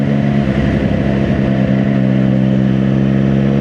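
Loud, close Triumph Daytona 660 three-cylinder motorcycle engine revving, a rich, throaty drone that rises and falls briefly before settling into a steady, sustained hum.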